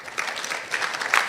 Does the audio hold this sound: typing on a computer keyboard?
no